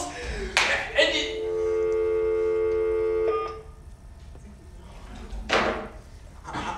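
A telephone on a school drama stage gives a burst of dialing tones, then a steady dial tone hums for about two seconds, framed by sharp thumps and stage sounds, with actors' voices nearby.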